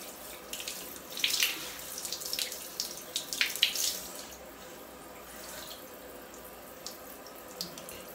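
Water is poured onto the soil of a potted cyclamen and drains through the pot. A close splashing trickle builds in the first few seconds, then thins to soft drips and a quiet run-off.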